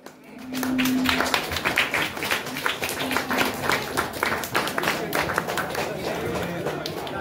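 Loud, sustained clapping from a village crowd at a Dasara lottery draw as a prize winner is honoured, dense and steady throughout with a murmur of voices beneath.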